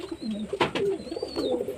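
Pairs of pet pigeons at a home coo softly in a short burst of low, throaty calls, close by, with faint background noise.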